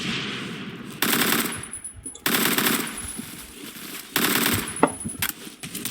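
Type 88 rifle, a North Korean AK-74 variant with a helical drum magazine, fired in Phantom Forces: three long loud bursts of rapid automatic fire separated by short pauses, with faint game background sounds between bursts.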